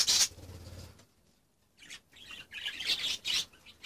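Budgerigars chirp in short, bright bursts near the start and again toward the end, with a quiet gap in between, close by and moderately loud.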